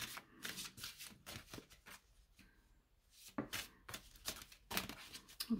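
Oracle cards are shuffled by hand in quiet bursts of soft riffling and tapping, close by, with a short pause in the middle and no voice.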